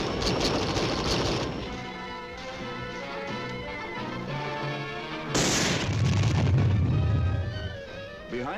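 Supporting gunfire and artillery fire in a Vietnam War infantry combat scene, heard as rolling booms and blasts with a sharp heavy burst partway through, loud and continuous under a layer of music.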